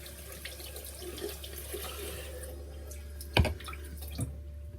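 Steady running tap water splashing into a sink, with a couple of sharper splashes and drips near the end as an alum block is held under the stream.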